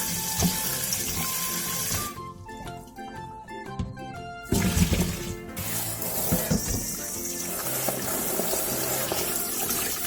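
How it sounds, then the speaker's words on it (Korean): Tap water runs steadily over salted cucumbers being rinsed in a sink, a continuous close splashing flow that pauses briefly and then resumes, with background music throughout. "절여진 오이는 물에 헹준 뒤 물기를 쏙 빼주세요"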